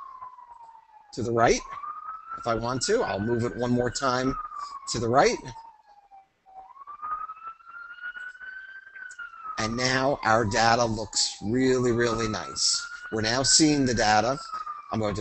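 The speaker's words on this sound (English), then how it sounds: "We've got an ambulance going past us right now." An ambulance siren passes outside, wailing up and down steadily in the background throughout while someone talks over it close by.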